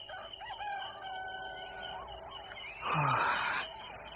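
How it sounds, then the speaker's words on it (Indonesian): A rooster crows once at a distance in a radio drama, a rising, drawn-out call over faint background bird chirps and quiet ambience. "Ayam jantan sudah berkokok."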